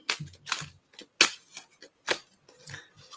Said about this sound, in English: They are not here tonight, so I do get to shuffle my cards.